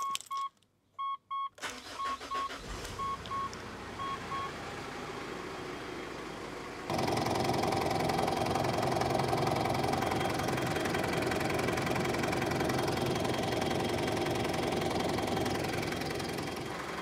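A car engine, just reassembled after a full intake system carbon cleaning, cranks and catches, then settles into a steady, fairly loud idle that continues to the end, with a few beeps near the start.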